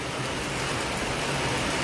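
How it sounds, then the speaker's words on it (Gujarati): Steady, dense rain with strong wind during a thunderstorm roars in a continuous wash of noise, heavy and unbroken throughout, with no voices. "ગાજવીજ સાથે વરસાદ વરસી રહ્યો છે"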